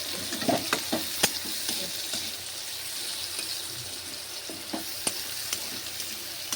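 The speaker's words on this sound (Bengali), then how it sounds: "পেঁয়াজটা লাল লাল করে ভেজে নেব।" Chopped onion fries in a pan for a prawn malai curry, a continuous close sizzle broken by scraping knocks as it is stirred, with no talk.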